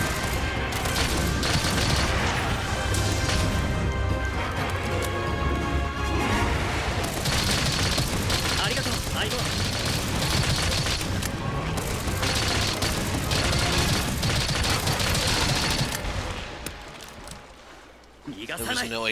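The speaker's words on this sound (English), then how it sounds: "we are firing off a large volley of shots here" Rapid volley of bowgun shots in the Monster Hunter Rise video game against a Barioth, a dense barrage of bursts and booms layered under continuous game noise and someone talking throughout.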